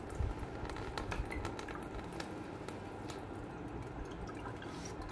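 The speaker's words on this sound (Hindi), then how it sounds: "कपड़े की मदद से हम इसे छान लेंगे" Sardai liquid is squeezed and strained through a cloth into a bucket, making a continuous close wet trickle with squishy dripping throughout.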